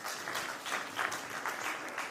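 A school audience at a storytelling competition finale gives a round of applause, a continuous, fairly faint wash of many hands clapping with small swells, heard from a distance and without talk.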